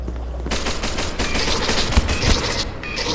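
Rapid gunfire rattles continuously in the SCP: Secret Laboratory video game as shots are fired at a window, dense repeated bursts with a couple of louder low thumps, no talk over it.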